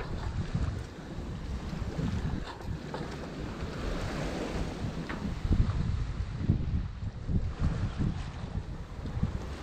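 A sailboat coming into port under sail. Blustery wind buffets the microphone over a continuous wash of water and waves, loud and close, with no voices.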